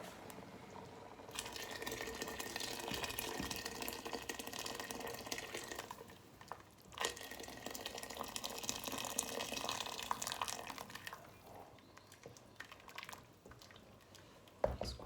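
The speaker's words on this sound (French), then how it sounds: "Je vais compléter avec de l'eau chaude." Hot water pours into a pot of Moroccan harira soup, a steady splashing gush that breaks off briefly midway, then resumes before fading near the end.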